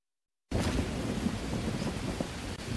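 Steady rain pours down at night in a jungle, with a low thunder rumble blended into the dense hiss; the sound starts abruptly after a short silence and stays loud and continuous.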